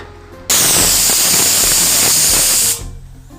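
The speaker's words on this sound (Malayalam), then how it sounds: "കുക്കർ അടച്ച് 2 വിസിൽ വരുന്നത് കഴിക്കുക" A pressure cooker whistle lets out a loud, sharp blast of steam, cooking ash gourd and green peas curry: a single hiss of about two seconds that starts and stops abruptly over quiet kitchen background.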